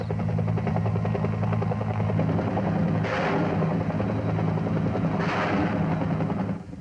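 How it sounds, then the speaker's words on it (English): Military helicopter gunships fly during a combat landing-zone operation, their rotors producing a loud, continuous, throbbing drone that fills the whole clip with no speech. "A second set of gunships is launched to replace the first pair"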